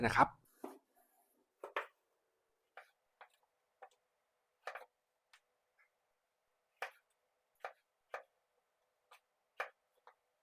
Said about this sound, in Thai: มะเขือเทศลูกใหญ่4ลูกให้เราหั่นเป็นชิ้นๆ